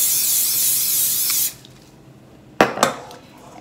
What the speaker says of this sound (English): So all I'm going to do is lightly spray my springform tin.